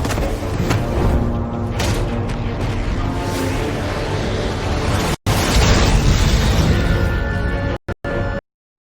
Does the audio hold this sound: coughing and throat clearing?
no